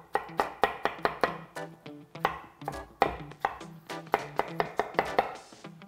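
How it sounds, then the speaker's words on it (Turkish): A knife cuts melon into thin slices for ice cream, sounding as a quick, even series of sharp close taps on a cutting board with no voices. "Şimdi ince dilimler halinde kesiyorum."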